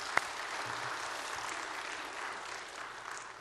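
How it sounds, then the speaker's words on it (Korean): A Korean church congregation offers a steady round of applause of praise to God in a Dallas Methodist church, a faint, even wash of clapping with one sharp knock near the start. "영광의 박수를 하나님께 올려드리겠습니다."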